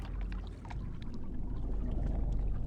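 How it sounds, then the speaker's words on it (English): Water rushes and pours in the dark inside the game Outer Wilds, a steady, even wash of sound that stays at the same level throughout, at a middle distance with no voices. "I can hear like water and creaking of wood."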